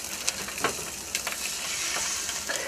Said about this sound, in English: It doesn't have quite the sizzle I was hoping for. There it goes.